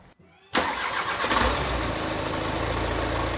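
A VAG 2.0 TDI diesel engine starts on the first try after a fuel filter change. A brief starter crank catches at once into a loud, steady, close-up diesel idle that runs to the end.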